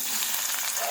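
Chopped onions and green chillies frying in hot oil in a pan make a brief, dense, continuous sizzle heard up close with no talking.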